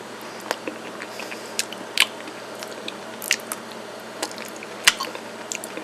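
Someone tastes a buttery, runny sweet potato pie filling, making soft, sparse, wet mouth smacks and clicks close up in an otherwise quiet room.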